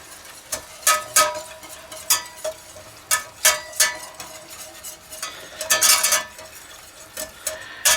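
Flour and butter are whisked together in a pot, making a steady run of quick metallic clicks and scrapes in an uneven rhythm, close and clear.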